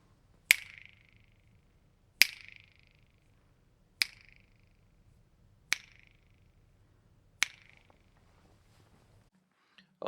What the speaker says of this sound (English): start snapping my fingers again so you can hear how this room sounds at this position